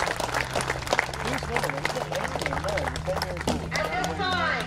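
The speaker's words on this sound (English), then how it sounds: "Let's give these young athletes a round of applause." Crowd applause for young athletes at a high school baseball game, Mifflin County versus Mount Union, a broad steady clatter of clapping heard under an announcer's voice on the stadium PA.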